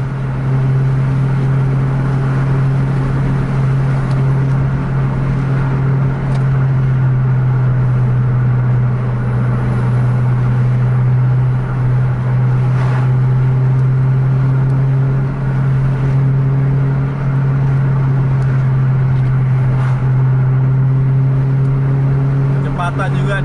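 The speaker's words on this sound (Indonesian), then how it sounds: "Jarak iring-iringan di 10 meteran antara 3 bis." Three buses race closely in convoy on a highway at about 120 km/h, heard as a loud, steady engine drone and road roar from inside, with someone talking over it.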